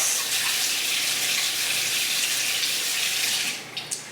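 A kitchen tap runs steadily for hands being washed while making pumpkin bread, a close, constant hiss of water that tapers off in the last half second with a couple of small knocks.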